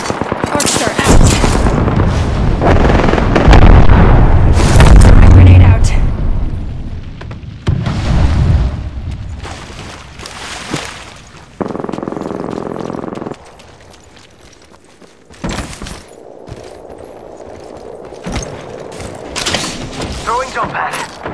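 Gunfire bursts, electric crackle and booms from an Arc Star grenade mix with voice lines during a firefight in the video game Apex Legends, loud and dense at first, then thinning into scattered shots and mechanical sounds.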